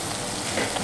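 Curry leaves dropped into a pan of chicken thoran cooking in coconut oil, giving a loud, dense, continuous sizzle throughout a brief moment.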